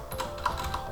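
A file name being typed on a computer keyboard, heard as a short quick run of soft, close key clicks, with no talk.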